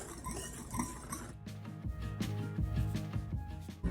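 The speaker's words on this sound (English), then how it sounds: "Now I want to give this all a whisk and blend everything together" Whisk clinking steadily against a bowl while blending gluten-free flour, baking powder and salt for buttermilk biscuits, a close, rhythmic run of light metallic taps and scrapes with no talking.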